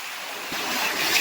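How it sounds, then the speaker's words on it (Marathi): Choppy sea waves wash and surge near a fishing net, a soft broad rush that swells louder over the brief moment, with some wind on the microphone. "लाटा बघा पाण्याच्या"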